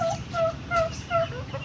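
A large male turkey of about 7 to 8 kilos in a backyard gives repeated rapid gobbling calls, four short bursts at a steady rhythm, moderately close.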